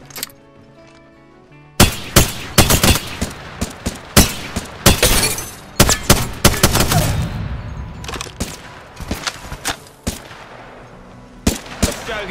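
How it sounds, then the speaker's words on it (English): Rapid gunfire bursts from the video game Apex Legends, loud and close, with a quiet lead-in before a dense string of shots and impacts with short pauses, ending in a few separate cracks. "Joker's shooting at me."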